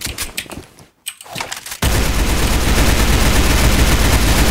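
An AK-47 fires in the Roblox shooter Counter Blox, a sudden sustained burst of rapid automatic gunfire that starts loud after a short gap and keeps going steadily to the end, preceded by quieter scattered shots.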